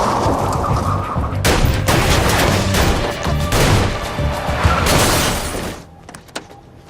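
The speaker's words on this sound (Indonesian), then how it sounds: "Dan baku tembak pun terjadi." Dense gunfire from a film shootout, a sustained loud fusillade of overlapping shots and bangs for most of the stretch, cutting off near the end to a quieter tail with a few scattered hits.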